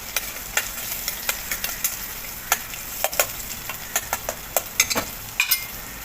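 Onions and mixed vegetables sautéing over a high gas flame, with a steady close sizzle punctuated by frequent sharp clinks and scrapes of a spatula stirring the pan, and no talking.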